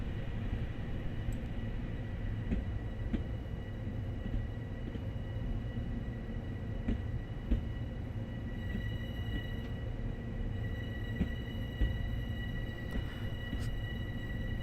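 A Long Island Rail Road train rolls through a New York yard in Train Sim World, a steady low rumble with a continuous hum and faint periodic clicks and clunks throughout.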